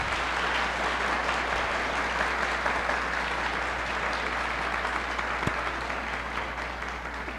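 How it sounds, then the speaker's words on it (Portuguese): Sustained audience applause at a university lecture on cybercrime, a dense steady wash of clapping from a large room that carries on evenly and fades slightly toward the end. "então aplaudindo esses profissionais porque eles merecem."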